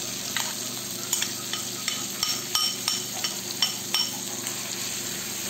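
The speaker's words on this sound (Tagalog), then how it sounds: "haluin lang natin" Pork binagoongan with shrimp paste is stirred in a sizzling pan. A steady frying hiss runs underneath, with a series of light scraping clinks from the utensil at an irregular rhythm.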